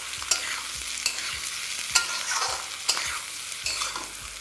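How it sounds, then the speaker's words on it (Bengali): A spatula repeatedly scrapes and turns potatoes, cauliflower and spring onion stalks frying in a hot pan, giving five or six distinct stirring clacks over a constant oily sizzle, with no voices. "এবার 5 থেকে 6 মিনিট এটাকে আপনাদের এইভাবেই ভেজে নিতে হবে।"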